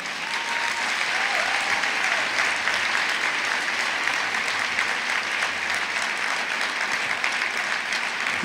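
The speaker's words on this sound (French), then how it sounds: "Applaudissez-les s'il vous plaît encore." Sustained audience applause at a ceremony thanking Jane and John, a thick, even roar of many clapping hands that continues without a break, moderately loud and steady.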